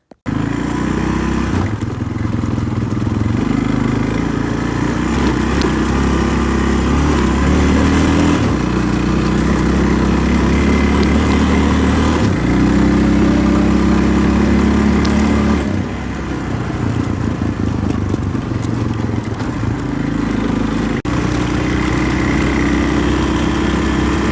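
ATV engine running steadily while riding down a trail, a loud close drone that rises and falls with throttle changes over a long stretch.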